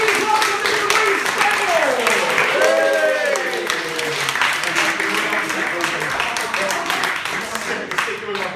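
A stand-up comedy audience applauds to welcome a comedian onstage, steady dense clapping with whoops and cheering voices over it for several seconds.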